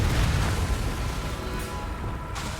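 Fiery Confringo spell blast in Hogwarts Legacy, a dense rumbling burst of noise that stays loud and continuous across the whole moment with no pauses.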